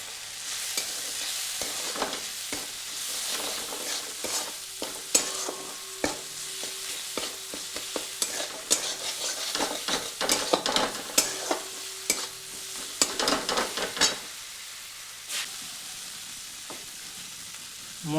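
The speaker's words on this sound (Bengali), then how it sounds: "এরপরে মশলাটিকে কিছুক্ষণ ভেজে নেব।" Spices frying in a pan for pasta, stirred with a utensil: repeated close scraping strokes ride over a continuous sizzle, with no talking.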